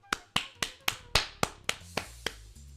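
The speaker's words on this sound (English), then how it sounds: "but I'm still clapping" Close hand claps ring out as ten sharp, evenly spaced, mostly uniform claps in quick succession, with nothing else heard.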